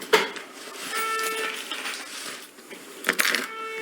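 Keys are pulled out of a pocket with a bright metallic jingle near the start, faint rustling and clinking through the middle, and a second sharp jangle toward the end, all close by.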